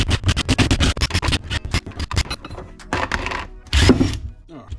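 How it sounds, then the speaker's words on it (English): Bolts being removed from the ring gear of a Mazda MX5 differential with a power tool, rapid bursts of loud rattling impact and scraping metal, close up, alone without talk. "What we need now is this ring gear off here. So I'm just going to take all these bolts out."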